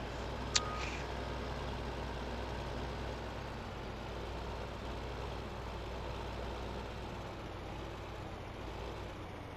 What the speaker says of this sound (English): There's the truck right there.